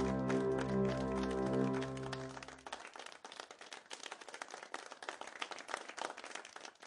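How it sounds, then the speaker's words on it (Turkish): A crowd of Tibetan people claps in welcome, many hands in fast, irregular applause, close and steady, with a sustained musical tone underneath at the start that fades out. "Onu işte böyle alkışlıyorlardı."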